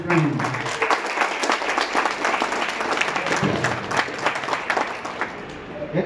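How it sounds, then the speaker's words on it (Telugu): A crowd at a leadership training session claps loudly and steadily for several seconds, a thick, sustained burst of applause with voices audible in the mix. "దాని గురించే చప్పట్లు కొట్టమని గట్టిగా కొట్టమని చెప్పాను"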